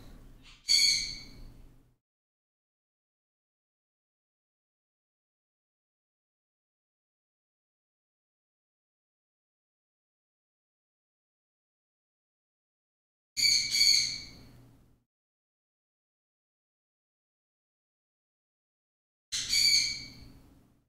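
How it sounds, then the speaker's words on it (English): Three short, loud bird squawks separated by long silences, each a sharp, harsh burst heard alone and close by. "I think that's a pretty happy squawk."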